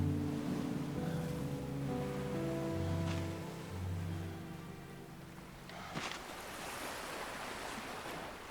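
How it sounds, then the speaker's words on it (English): Ocean waves in Final Fantasy 16 wash in a soft, continuous surf with low rumbling swells, fairly faint and distant, with no speech over them. "Oh man, look at the waves."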